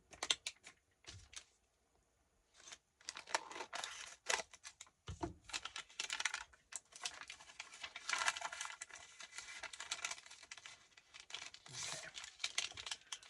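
Paper being trimmed for a vintage irises journal: soft snips and crinkly rustling at close range, in irregular bursts with brief pauses, fairly quiet throughout.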